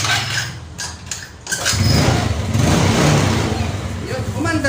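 A Yamaha Mio Sporty motorcycle engine starts after a short crank, settling into a loud, steady idle close by.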